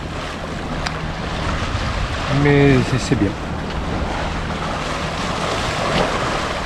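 A sailboat motoring on a calm sea with little wind, its engine a low steady drone under wind and wave wash, with a person speaking briefly partway through.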